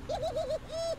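A raven calling in the video game Castlevania: Lords of Shadow, a single short warbling call followed by a smoother drawn-out note, clear and fairly close with no talk.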